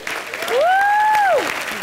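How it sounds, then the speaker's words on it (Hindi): A comedy-show studio audience applauds contestant Papita as a bed of crowd clapping, while a sustained tonal sound swoops up, holds and falls away over it for about a second. "एक बार जोरदार तालियां हो जाए पपीता के लिए।"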